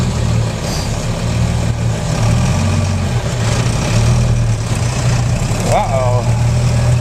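A new tractor spreading clover seed runs with a steady, loud low engine drone that holds unbroken throughout, close by.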